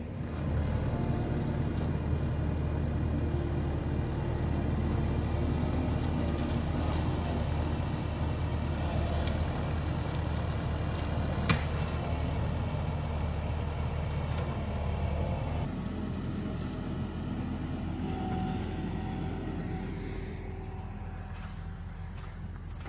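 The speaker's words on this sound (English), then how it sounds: "I'm gonna have Jude bring this skid steer around" A skid steer runs and moves about near a stream bed, its engine a steady low rumble throughout that eases off a little toward the end.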